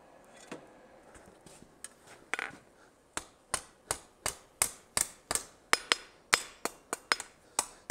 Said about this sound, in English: as soon as it hits the anvil surface, I stop wailing on it